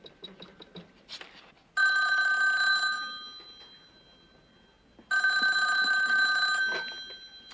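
A telephone rings twice, each a bright, sustained electronic trill of about a second, with a quiet gap between. Faint clicks and shuffling sounds come before the first ring.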